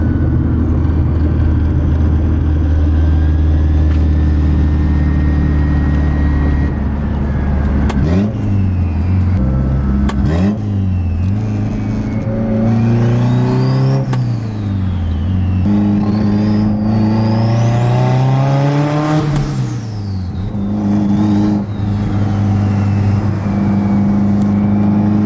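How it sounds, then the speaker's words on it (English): A Mazdaspeed 6 with a hood exit exhaust revs loudly up close, its turbo spooling into rising and falling whistles with each pull. No one speaks over the engine. "Hopefully you guys are hearing this because it's pretty loud and the spool noises are pretty"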